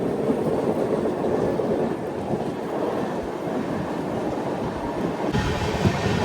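A train rushes past alongside the Charminar Express in a loud, dense roar of wheels and rattling cars, steady and close for the whole stretch, with no voices over it.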